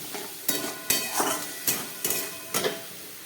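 Dried fish curry is sautéed in a pan while a spatula strikes and scrapes the metal in sharp, evenly spaced knocks, about six in three seconds, against a faint background.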